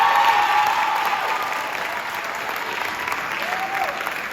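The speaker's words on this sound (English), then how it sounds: "Let's give a round of applause for Oyen" Audience applause for an award winner at a middle school cross-country team awards ceremony, a steady, fairly loud wash of many hands clapping that holds for several seconds and eases slightly toward the end.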